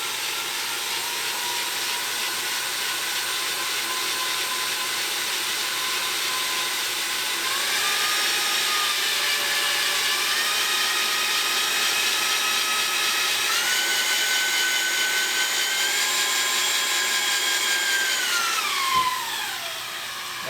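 Electric drill spinning an engine oil pump on a big-block Dodge truck engine, a steady whine lasting throughout that climbs in pitch in steps as the drill speeds up, then winds down at the end; loud and close, no talk.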